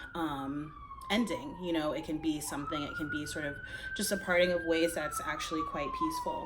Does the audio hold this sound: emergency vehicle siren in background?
yes